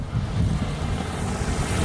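Steady low rushing wind buffeting a microphone, a constant roar with no talking, like air streaming in through an open car window.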